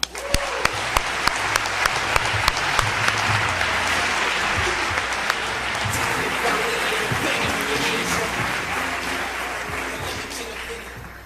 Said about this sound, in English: Please give a round of applause to Bakari Kitwana.